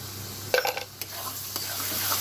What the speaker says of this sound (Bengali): এটা আমি আরও কিছুক্ষণ কষাবো